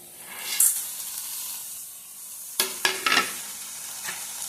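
Masala sizzles steadily in a pan for cauliflower saagu, with tomato and onion already fried, and a few sharp scrapes and clatters come from stirring partway through.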